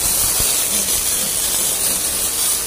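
A hand sprayer hisses in one continuous, fairly loud stream of spray that does not let up, with no voices over it.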